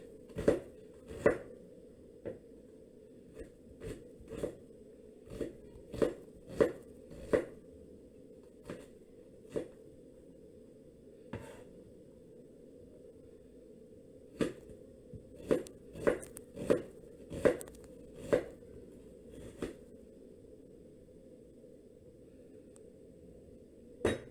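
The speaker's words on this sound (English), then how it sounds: "we will be chopping our ingredients" A knife chops on a board in quiet, irregular bursts, crisp taps sometimes in quick runs and sometimes spaced apart, with faint background hum.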